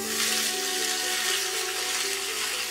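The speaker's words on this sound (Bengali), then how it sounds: "এবার কলমি শাকটা দিয়ে দিই।" Fresh water spinach drops into hot mustard oil with lightly fried chopped onion in a wok, setting off a loud, steady broadband sizzle that holds evenly throughout.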